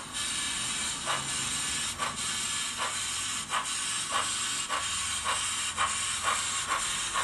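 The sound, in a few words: model steam locomotive cylinder cocks hissing, Soundtraxx Econami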